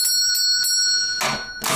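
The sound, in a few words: small bell above a barbershop door ringing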